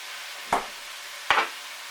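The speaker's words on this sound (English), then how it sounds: "Kind of tossing it around so it's good and coated, so it gets nice and aromatic." Food tossed in a frying pan, two sharp tossing bursts with a brief sizzle over a soft constant background hiss, close and fairly quiet, no voices.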